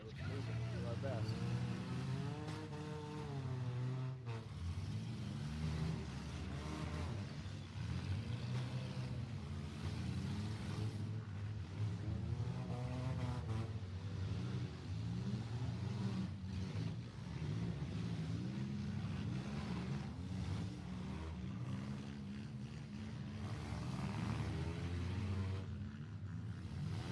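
Race cars run on a track during a Metal Mayhem 2021 event, with a steady engine roar throughout and a commentator talking over it.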